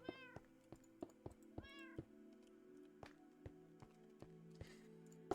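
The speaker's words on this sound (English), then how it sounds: "I'm pretty sure that's the cat over here is Kelly." Minecraft cat meowing in repeated short calls amid soft game clicks and taps, fairly quiet with no talk.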